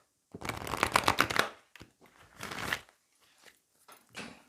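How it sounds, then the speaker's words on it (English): Tarot oracle cards from the Gods and Titans deck being shuffled: a close, crisp riffling burst, then a few shorter shuffles and card rustles with quiet pauses between, and no voice. "also pull cards from the Gods and Titans deck as well"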